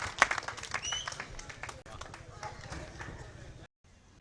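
Audience applause at a Hindi kavi sammelan poetry gathering in Pandeyganj, scattered clapping mixed with crowd noise and voices, breaking off abruptly near the end before a sudden loud burst.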